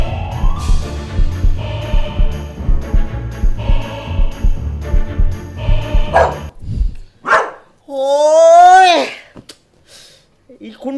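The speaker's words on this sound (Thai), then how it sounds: "เห่าทำไมเนี่ย" A dog barks in a loud run of repeated barks for several seconds, then lets out a few sharp, whiny yelps, with people talking nearby.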